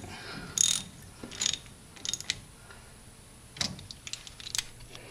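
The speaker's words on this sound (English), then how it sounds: "And then just tighten up your two nuts right here." Nuts are tightened on a Ford Ranger brake assembly, giving faint metallic ratchet clicks in several short bursts separated by quiet pauses.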